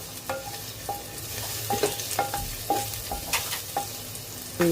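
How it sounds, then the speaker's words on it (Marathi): Mixed vegetables and mushrooms frying in a little oil in a kadai for a vegetable soup, a steady close sizzle with repeated spatula scrapes and stirring knocks throughout. "या सगळ्या भाज्या टाकल्या आलं मस्त आपण परतून घेऊया"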